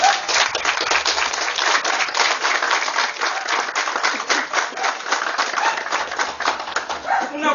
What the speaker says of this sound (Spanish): Un fuerte aplauso por la familia Salazar Lima.